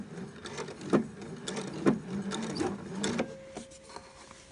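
A sewing machine stitches the start of a seam on a shirt collar of Liberty fabric, running in short, close bursts with a few sharp mechanical clicks, fairly quiet and alone.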